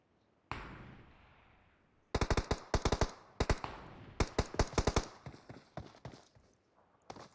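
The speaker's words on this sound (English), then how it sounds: "I believe Node may be placing some shots downrange" Video game gunfire during a scrim: one sharp shot with a decaying tail, then rapid bursts of automatic fire in quick clusters, thinning to scattered single shots, fairly distant and quiet.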